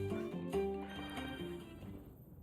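A Seikret mount runs in Monster Hunter Wilds, its quick rhythmic footfalls and faint bird-like calls heard softly over game music, with no speech.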